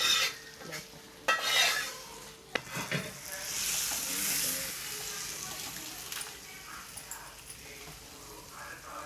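Tempering spices frying in a pan, with loud clanks of a spoon stirring against metal early on, then a steady hissing sizzle that slowly fades, with a few brief voices in between.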